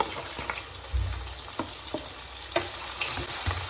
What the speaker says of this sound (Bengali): তো এই মাছগুলো আমি ভাজা করে নেব